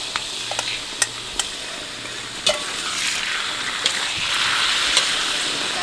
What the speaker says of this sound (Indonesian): Kita masukkan jahenya. Kita tumis. Deh, masukkan dagingnya deh.